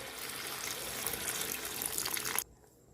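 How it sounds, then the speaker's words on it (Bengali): Water pours steadily into a pan of Bengali chicken kosha, a close, continuous splashing hiss that ends abruptly just before the close, with no voices. "এবার আমি একটু জল দিয়ে দেবো।"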